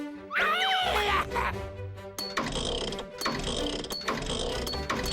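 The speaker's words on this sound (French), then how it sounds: "Et voilà une super clé à la rescousse." A cartoon wrench turns a bolt, several bursts of ratcheting mechanical clicks after a brief squealing, whistle-like effect, with other sound effects layered over it.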